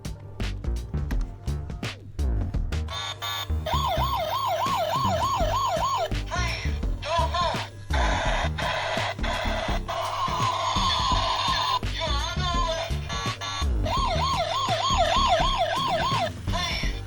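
An ambulance and a police car run down a slope with sirens sounding, wailing and yelping tones rising and falling over layered electronic warbles, loud and close throughout.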